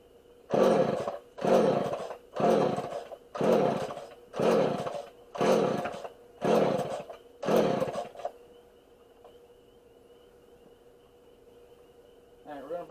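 Homelite 240 chainsaw engine revving in eight loud, evenly spaced bursts of about a second each, then dropping to a steady low idle with a faint whine before a brief rise at the end.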